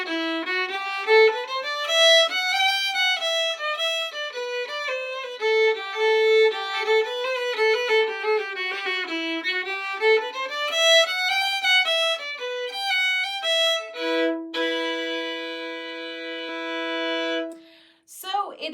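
A solo melodic instrument plays the Irish hornpipe The Rights of Man in a triplet variation, with quick lilting ornamented runs and a sustained held note near the end, clear and close with no voices.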